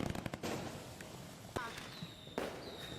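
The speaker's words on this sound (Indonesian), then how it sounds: "Ini rasa syukur kita menyalakan kembang api malam ini ya" Fireworks set off at night in celebration, with sharp bangs and crackles in a rapid cluster at first, then a few scattered pops and whistling streaks, over a busy crowd where people talk and cheer throughout.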